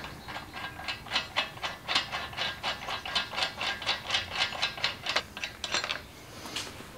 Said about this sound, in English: take your lug nuts off all the way